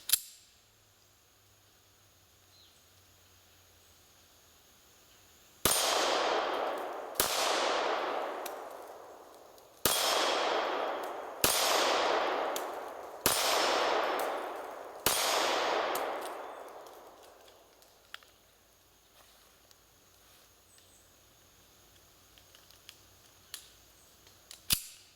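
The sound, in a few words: Kahr PM9 pistol shots hitting steel targets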